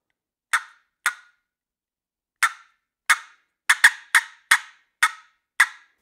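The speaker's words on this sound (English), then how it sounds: "All I'm doing when I'm cutting is I'm just slapping the paddle down on the tone board" Sharp, choppy cutting on a turkey box call, a paddle slapped against the tone board, giving ten loud, close clucks in an irregular, broken rhythm with clear gaps between them and no voice.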